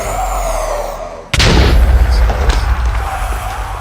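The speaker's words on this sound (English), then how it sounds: "you can kind of hear them going and exploding" Withers exploding in the Minecraft Stoneblock 2 modpack: a sudden loud boom cuts in, then gives way to a sustained deep rumble with scattered crackling bursts, close and heavy, after a steady low drone.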